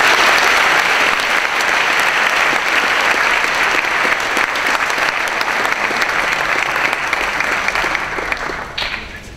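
Sustained audience applause fills a hall at a Lawrenceville School meeting, loud and dense throughout, tapering slightly near the end.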